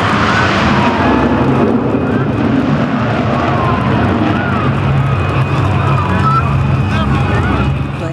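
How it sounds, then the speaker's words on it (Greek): F-16 Block 52 Plus fighter jet roars through an air show display, a loud, continuous, rushing engine noise lasting several seconds, with a voice talking over it. "Το σκάφος F-16 Block 52 Plus με χειριστή τον υπτάμενο επισμηναγό Δημήτρη Βολακάκη σε μια συγκλονιστική αεροπορική επίδειξη"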